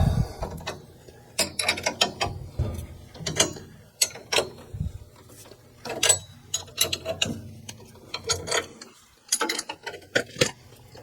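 A wrench ratchets while tightening a bolt on a water circulation pump. Bursts of close, rapid clicking come and go throughout, with short pauses between strokes and no talking.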